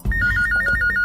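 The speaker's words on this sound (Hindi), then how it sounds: "फोन फोन का रिंग है यार।" A phone ringtone in a Hindi-dubbed South Indian action movie chirps loud and close as a rapid repeating electronic trill, heard alone without speech.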